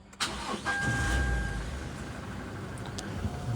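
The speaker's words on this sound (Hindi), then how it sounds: "और गाड़ी को जब स्टार्ट करो तो आवाज़ सुनो गाड़ी की" A brand-new Toyota Legender cranks and fires up, its engine catching quickly and settling into a quiet, steady idle with broadband hum close by.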